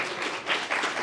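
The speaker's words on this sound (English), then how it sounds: "let's clap for Solomon again." Audience applause at an investment forum plenary session, a dense, steady burst of clapping from a crowd filling the hall, brief and loud.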